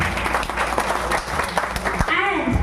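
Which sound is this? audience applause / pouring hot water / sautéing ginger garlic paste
audience applause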